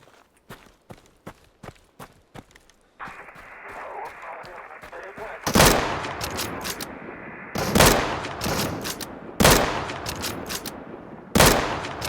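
Gunfire in the shooter game Deadside: a run of footsteps, then a steady ambient hum broken by several loud, sharp bursts of shots, close and spaced a couple of seconds apart, with someone talking over it.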